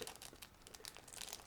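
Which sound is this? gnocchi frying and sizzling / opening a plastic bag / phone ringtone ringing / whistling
opening a plastic bag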